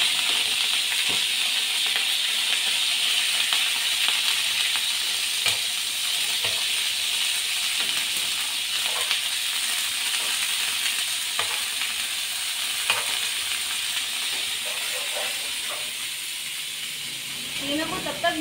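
Minced meat keema frying in a pan, a continuous loud sizzle and hiss with frequent stirring scrapes and taps, nobody speaking, the sizzle easing slightly near the end.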